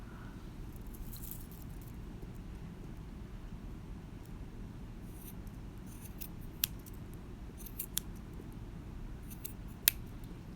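Scissors snip through yarn tassel threads in a few sharp, isolated clicks spread over a quiet background, faint and close with no voices.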